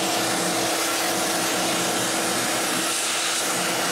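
Steady roaring whine of a vacuum cleaner sucking old green foam out of the case of an antique Alnor Pyrocon gadget, loud and continuous throughout, then cutting off abruptly at the end.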